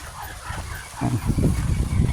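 Ducks kept indoors on a rural farm are fed, giving a dense, steady mix of low quacking and jostling feed noise that grows louder and busier halfway through, with no talk.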